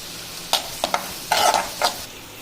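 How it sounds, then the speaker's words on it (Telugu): Semolina frying in ghee in a pan, stirred in a few short scraping strokes with a soft sizzle beneath, close and with no talk. "ఇప్పుడు అదే గిన్నెలో నెయ్యి ఉండాలి, రవ్వ వేసుకుని వేయించుకోవాలి."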